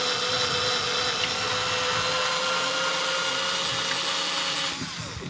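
A power drill whirs loudly and steadily for about five seconds, running through tight guide-pin holes on a plantation coach kit, its pitch dipping slightly as it winds down near the end.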